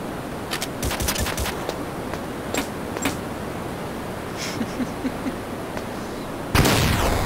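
Gunfire in the game Metal Gear Solid comes as a quick cluster of sharp shots followed by a few sparse cracks over a constant hiss of background noise.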